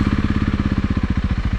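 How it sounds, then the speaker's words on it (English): Honda CRF300L motorcycle engine pulsing steadily and close as the bike climbs an off-road slope, a rapid regular throb with no talk. "bearing in mind this is going uphill as well, so we'll see how the bike grips."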